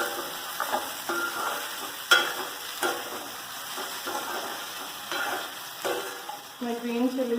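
Vermicelli pulao is stirred as it fries in a pan, with a steady sizzle under repeated scraping strokes and a few sharp clinks, close and moderately loud.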